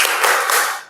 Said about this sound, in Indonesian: Jadi semuanya kita tepuk P5.